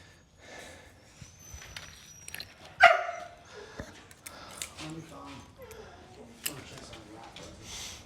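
Dog barking outdoors, a few short sharp barks with whimpers and footsteps, heard alongside people talking nearby.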